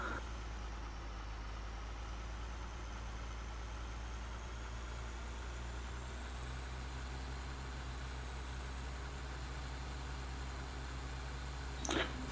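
Forestry tractor from a forest mod in Farming Simulator idles steadily throughout, a low constant engine drone with no speech, ending in a brief sharp clack near the end.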